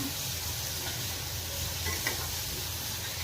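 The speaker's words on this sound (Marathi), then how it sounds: "आपल्याला कांदा घालून घ्यायचा. कांदाही आपल्याला गुलाबी होऊ द्यायचा." Chopped onion frying in a pan for a cluster bean stir-fry, a continuous close sizzle with faint stirring, steady throughout with no talk.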